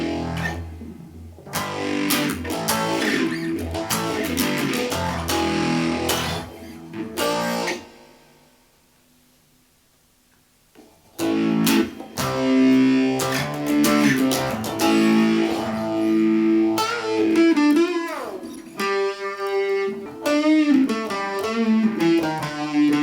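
Electric guitar played through a DIY BYOC phaser pedal paired with distortion, giving a loud, swirling, sweeping tone with strummed chords and single-note runs, broken by a brief near-silent gap midway.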